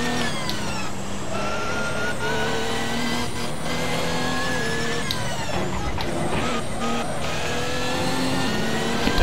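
An Audi R18 e-tron quattro race car from Assetto Corsa on the Nordschleife accelerates hard, its engine whining steadily upward through gears with brief shift dips, loud and close throughout, with faint speech at times.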